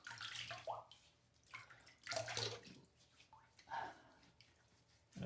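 Water splashes and trickles near a tub as hands wet the face before shaving, irregular sloshing bursts with dripping between them, close and fairly soft.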